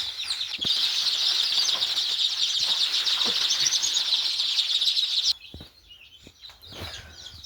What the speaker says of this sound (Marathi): आता मी सगळी पिल्ली ह्या क्रेटमध्ये काढून घेतो